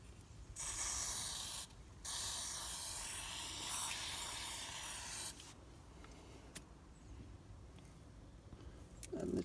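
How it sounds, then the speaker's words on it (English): WD-40 sprayed onto a brake caliper on a Mk4 Ford Mondeo during a front disc and pad job, two close, bright hissing bursts followed by quieter rubbing and small clicks. "I'm just going to put some WD-40 just on here."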